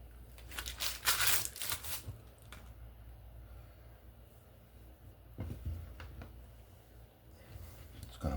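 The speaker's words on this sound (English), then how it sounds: "Get that parchment paper out." Parchment paper crinkles and rustles in bursts as a chocolate Swiss roll is rolled, loud crackling early, then softer scattered crinkles and handling noise close by.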